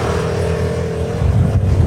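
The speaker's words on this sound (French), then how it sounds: "Je vous présente le 125 cm3 à variateur. C'est Rotax qui s'occupe en grande partie du moteur finalement." A BMW C1 scooter's 125 cc Rotax engine with a CVT drive runs loud and close, holding a steady drone that deepens and roughens in the final moments.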